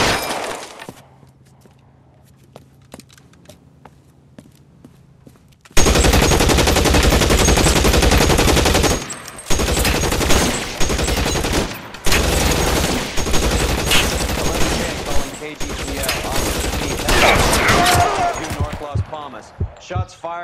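Rapid bursts of gunfire erupt in a shootout in the video game L.A. Noire, loud and close, with dense volleys broken by short pauses after a quiet opening.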